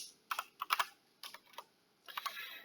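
Keystrokes on a computer keyboard while entering an Excel formula, in short irregular bursts of clicky taps separated by pauses, close and fairly quiet with no talking.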